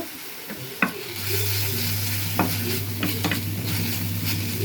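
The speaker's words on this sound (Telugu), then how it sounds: "కొంచెం అల్లం వెల్లుల్లి పేస్ట్ వేద్దాం." Ginger garlic paste hits hot oil in a pan for a cabbage curry, setting off a loud, steady sizzle up close, punctuated by a few scraping stirs of a spoon.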